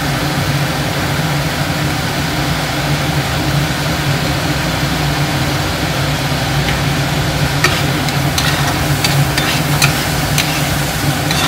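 Tomato added to spices frying in a pan for a simple katla fish curry, giving a steady close sizzle throughout, with a few sharp stirring scrapes and clinks toward the end.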